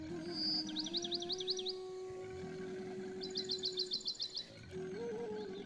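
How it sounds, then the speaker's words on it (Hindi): A cartoon bird hums and trills in short, repeated high chirping runs beside a lion's ear, two bursts set against a steady musical backdrop. "चुनमुन चिड़िया शेर के कान के पास जाकर गुनगुनाना शुरू कर देती है।"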